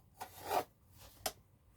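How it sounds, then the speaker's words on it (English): Scraping cuts through scratch-built model building material, two short soft rasping strokes close by, quiet, with a brief pause between them. "I just need to cut this."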